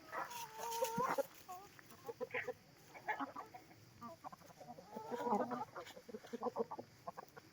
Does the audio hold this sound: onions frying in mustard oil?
no